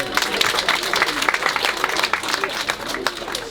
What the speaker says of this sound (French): Allez, on l'applaudit, c'est bien.